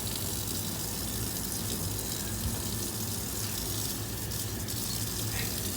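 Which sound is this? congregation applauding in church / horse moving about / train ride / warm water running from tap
warm water running from tap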